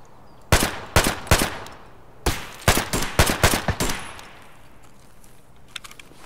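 Gunfire in the video game Escape From Tarkov: three sharp, close shots, a pause, then a quick string of about seven rapid shots, fading into a quiet tail with no talking.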